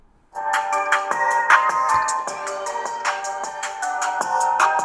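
A Poco F6 smartphone plays a melodic ringtone through its stereo speakers, bright repeating chime notes with a steady rhythm, loud and close, starting after a brief silence and continuing to the end, with no talking.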